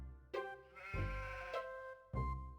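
Sheep in the 1990s horror adventure game Harvester bleat three times, each bleat long and wavering with clear gaps between them, close and fairly quiet with no speech.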